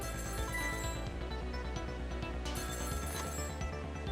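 A telephone rings in the video game Ghost Trick, a repeated electronic bell trill pulsing steadily over a faint music bed, close and clear with no voices.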